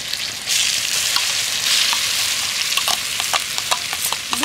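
Boiled potato stirred into fried spices in a pan for a filling: a steady sizzle with repeated scraping and tapping from a spoon, growing more rhythmic toward the end.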